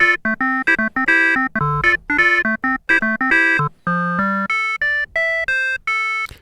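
An Arturia MiniFreak synthesizer plays its wave folder oscillator in a sequence of short, bright, harmonically rich tones with abrupt starts and stops, then a few longer held notes, loud and alone.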